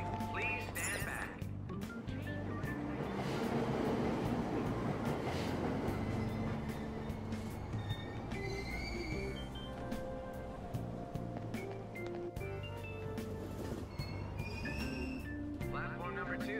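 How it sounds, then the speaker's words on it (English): Subway train pulling away from a station platform in the video game Persona 5 Royal, a dense rumbling roar with clatter and station chimes, loud and steady throughout. "Train doors are now closing."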